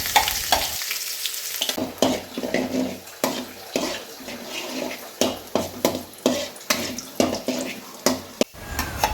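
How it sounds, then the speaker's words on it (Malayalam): Oil sizzles and crackles steadily in a pan as chopped ginger fries after mustard seeds have popped, with sharp stirring clicks and scrapes breaking through at intervals. "കടുക് പൊട്ടിക്കഴിയുമ്പോൾ ഇഞ്ചി ചെറുതായി അരിഞ്ഞത്"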